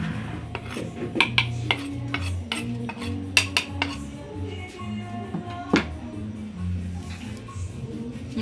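A spoon scrapes and clinks against a bowl or pan while Salvadoran enchilada ingredients are stirred together, with irregular sharp taps among softer rubbing and a low hum underneath.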